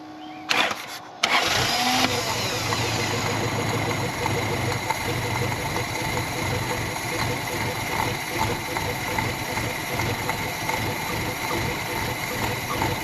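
A $500 Toyota pickup with a 22R engine cranks briefly, catches and settles into a steady, close rumbling idle that runs for the rest of the clip, while people talk faintly in the background.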